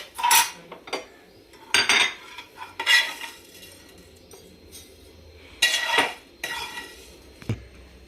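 A metal spoon scrapes and clinks against a pan while golden-brown fried vermicelli is lifted onto a plate for semiya payasam, in several short close bursts with quiet pauses and no talking.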